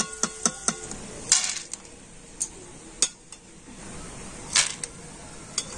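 Fried chana dal is lifted out of hot oil in a pan for homemade chanachur, with a metal spoon clinking sharply against the pan. The knocks and scrapes are close and irregular, separated by quiet stretches of faint sizzle.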